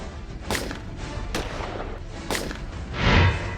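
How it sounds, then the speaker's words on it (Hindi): Gunfire from an attack on a BJP legislator in Delhi, caught on camera: several sharp, loud bangs spaced about a second apart, followed by a dull heavy thump, over constant background noise. "हमलावर ने चलाई 3 गोलियां।"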